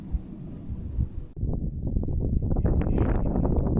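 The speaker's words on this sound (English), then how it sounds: "We got about 22 mile an hour gusts, 12 mile an hour winds." Steady wind gusting across the microphone outdoors on Texas backroads, with winds around 12 mph and gusts near 22 mph, a constant low rumble that shifts and swells partway through with no talking.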